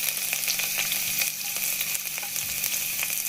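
Peppercorns, cloves, ginger and garlic fry in a pan, giving a steady, close, crackling sizzle with fine pops scattered throughout and no voices.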